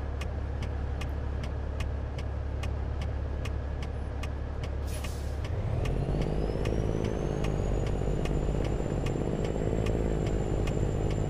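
A Kenworth W900 truck in the American Truck Simulator game drives with a steady low engine drone and regular ticking, then shifts to a deeper, stronger engine note after a brief hiss, with no talking.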